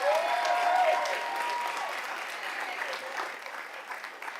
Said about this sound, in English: Please join me in a round of applause for our newly tenured teachers and administrators this evening.